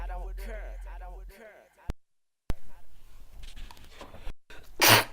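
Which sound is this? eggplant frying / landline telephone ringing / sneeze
sneeze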